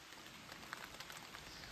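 Rain patters steadily on the roof of a hunting shanty at deer camp in West Virginia, a soft, even hiss with a few faint individual drops standing out, quiet and continuous.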